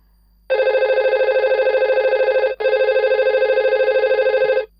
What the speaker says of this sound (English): Now let's check if this is the one that is ringing.